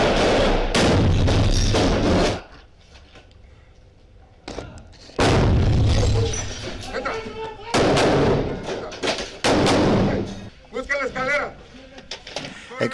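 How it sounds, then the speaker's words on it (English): Bursts of loud gunfire and heavy thuds during an armed raid on a dwelling in Los Mochis, Sinaloa, break out in several clusters, separated by quieter stretches with muffled voices and shouting. "Exchanging gunfire with Guzmán's henchmen"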